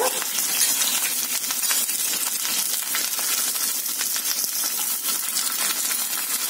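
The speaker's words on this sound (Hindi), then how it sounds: "तेल हमारा गरम हो गया है इसमें मैं डालूंगी जो मैंने हरी मिर्च और अदरक काट के रखा हुआ है कड़ी पत्ता" Green chillies, ginger and curry leaves sizzle and crackle steadily in hot oil for upma, a dense continuous frying hiss with fine popping throughout, close and fairly loud with no talking.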